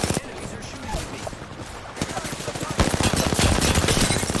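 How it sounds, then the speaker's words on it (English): Enemy gunfire in a battle royale shooter video game crackles in rapid bursts, going from scattered shots to a dense, loud stream of automatic fire near the end, partly over a voice. "Enemies are shooting at me."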